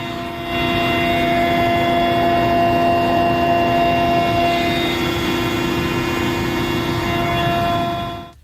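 A helicopter flies over the landslide-hit area of Wayanad, giving a steady, loud rotor and engine drone with a tonal whine that holds for the whole stretch and fades at the end, with no talk.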